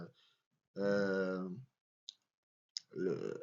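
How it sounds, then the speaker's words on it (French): One or two sharp, isolated clicks of the Enter key on a computer keyboard fall in a pause between stretches of someone speaking. "Je clique sur entrée"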